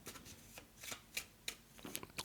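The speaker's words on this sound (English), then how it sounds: "I'll shuffle it back into the deck." A deck of cards from a solo board game is shuffled close up at low volume, with a quick run of soft riffling and snapping bursts.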